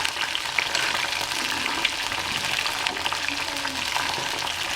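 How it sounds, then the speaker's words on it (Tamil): Mushroom chilli frying in hot oil, a dense, steady sizzle with bubbling crackle throughout, close and fairly loud with no talking. "இந்த சலசலப்பு பார்த்திங்கன்னா இந்த பபிள்ஸாக வருது இல்லைங்களா"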